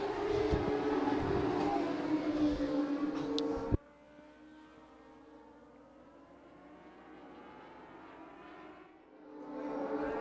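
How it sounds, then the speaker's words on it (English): Dwarf cars race at Havasu 95 Speedway, loud engine roar close by for several seconds that cuts off abruptly, then a fainter, distant engine drone rising and fading as cars circle the track. "Here come the Dwarf cars."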